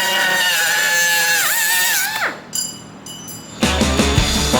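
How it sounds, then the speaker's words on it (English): A power tool cuts through a metal rod meant for a front bumper support on a right-hand-drive Mazda Eunos Miata widebody build, giving a high whining tone that drops as it stops, followed by a short quiet gap and then clattering workshop noise. "cutting the rod for the front bumper support"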